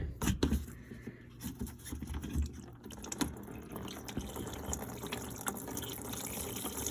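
Engine coolant spills out of a car during a repair and runs into a bucket, a soft irregular splashing and trickling stream with some clunks near the start, faint and close.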